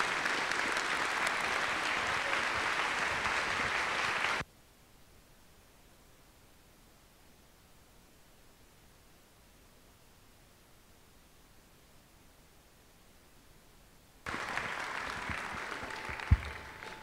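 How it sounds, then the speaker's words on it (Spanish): An audience at a concert by the young soloists' ensemble of the INBAL Superior School of Music claps in steady applause, then goes abruptly silent for about ten seconds, and the clapping returns near the end. "por favor recibámoslos con un fuerte aplauso"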